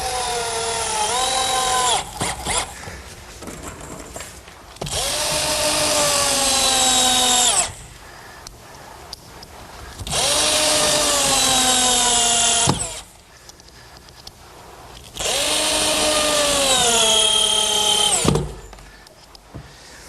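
A power drill drives 2.5-inch galvanized bugle head screws into picnic table boards in three loud bursts of two to three seconds each, the whine rising as each screw seats, separated by short quiet gaps.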